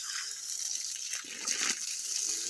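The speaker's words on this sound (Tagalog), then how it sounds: "Samahan niyo akong magdilig." Garden watering onto eggplant plants: a steady rush of flowing water, fairly close and continuous, with a brief fuller gush midway and no talking.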